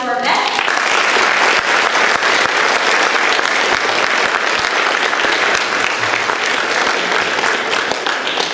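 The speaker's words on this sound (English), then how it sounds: "let's give one more round of applause to our vets" A classroom of high school students gives a steady, loud round of applause for visiting WWII veterans, many hands clapping evenly from start to finish without pause.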